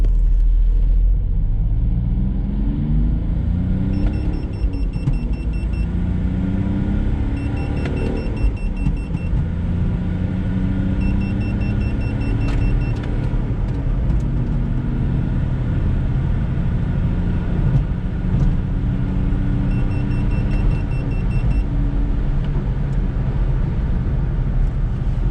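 A Smart Fortwo CDI diesel accelerating with the transmission in manual mode, a steady loud engine rumble heard from inside the car, its pitch climbing and dropping through several gear changes.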